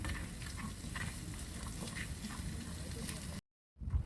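Olive oil sizzling and frying in a pan on a camping stove, a steady close hiss with light stirring noises, under a man's quiet speech, then a sudden brief silence before the sizzle resumes.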